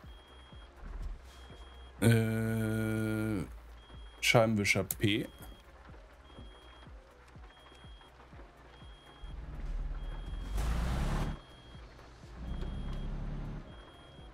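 Truck warning beeps in Euro Truck Simulator 2 with ProMods, sounding as a steady loud tone around two seconds in, with engine rumble in rain and someone talking over it.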